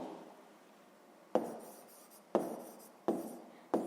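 A pen writing out a sixth-grade maths exercise by hand, heard as four sharp scratchy strokes, each starting with a crisp tap and fading, spaced about a second apart over a quiet room.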